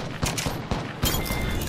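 Gunfire in Apex Legends: four sharp, separate shots fired within about a second, loud and close, with a brief ringing tail after each.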